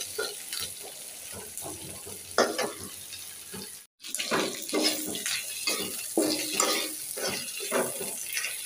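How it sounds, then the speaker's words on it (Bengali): Leafy greens (saag) sizzle and hiss as they fry in a pan, with a steady wet crackle and occasional stirring scrapes, broken by one brief silent gap, close and moderately loud. "ভেজে নিচ্ছি, এটা শাক রান্না করবো"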